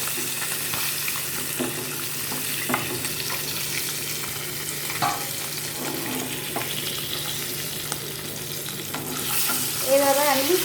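Hilsa fish frying in oil in a pan, a steady sizzle with occasional spatula scrapes and stirs, close and continuous throughout with no talking.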